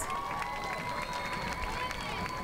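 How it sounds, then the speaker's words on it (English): Crowd applause and cheering at a ceremony honouring teachers of the year, a continuous roar of clapping with a sustained tone running through it, filling the whole moment at steady volume. "Let's give all of our teachers of the year an applause."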